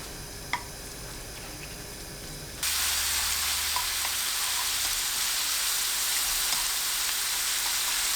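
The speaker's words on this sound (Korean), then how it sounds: "중불로 차돌박이를 구워주세요" Beef brisket slices hit a pan over medium heat. A loud, steady sizzle starts abruptly after a quiet moment and continues evenly close by.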